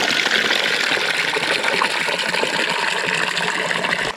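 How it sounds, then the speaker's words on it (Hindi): Water from a natural mountain spring in an Uttarakhand village gushes and splashes steadily into a container as it fills, loud and close, with no voices. "तो मैं पहले पानी भर लेता हूँ ताकि बाद में खाना बनाते टाइम मेरे को दोबारा ना आना पड़े यहाँ पर।"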